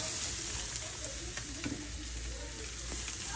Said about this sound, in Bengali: প্রথমে পেঁয়াজের সাথে ডিম ব্রকলি আর গাজরকে একটু ভেজে নিচ্ছে